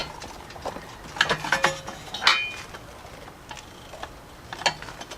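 Metal clicks and taps from a bolt being worked loose on a Honda Ruckus scooter's steering column: a handful of sharp, close ratchet-like clicks and clinks in short bursts, with quiet pauses between them.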